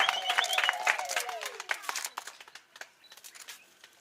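Guests at a strategic plan launch in Lamadi, Tanzania applaud, with high wavering ululation at first. The dense clapping thins into scattered claps as it fades.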